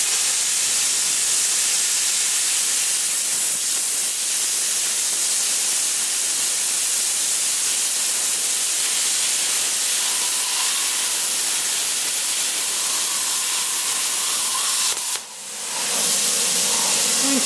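Longevity ForceCut 80i plasma cutter blowing through a quarter to 3/8 inch weld, a loud continuous roaring hiss that holds steady for many seconds before cutting off briefly near the end.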